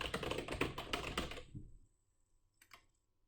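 Quick run of keystrokes on a computer keyboard, close and crisp, rattling for about a second and a half before stopping, followed by a couple of faint isolated taps in a quiet room.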